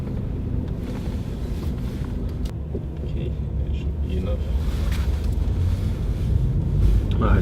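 Plug-in hybrid car accelerating in sport mode, a steady low engine and road rumble heard from inside the cabin that swells slightly toward the end, with light wind noise and occasional talk.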